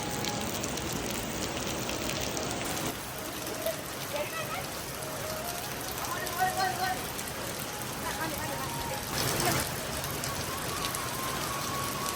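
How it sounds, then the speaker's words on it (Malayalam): Steady rain falls continuously, a dense patter on surfaces at moderate distance, with faint voices underneath. "മഴ പെയ്യുന്നുണ്ടായിരുന്നു"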